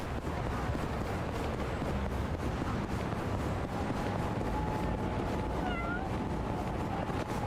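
A cat's meow in the video game Yakuza: Like a Dragon on PS5 rises briefly over a constant loud rumbling background noise, one short call near the end.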